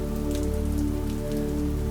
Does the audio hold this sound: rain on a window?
yes